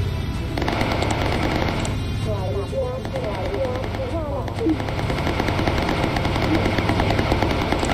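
Gunners aboard a bomber fire machine guns at attacking fighters in the Bomber Crew video game, sustained rattling bursts over a steady engine drone, with a voice speaking over part of it.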